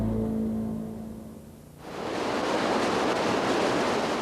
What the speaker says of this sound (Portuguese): Corredeiras,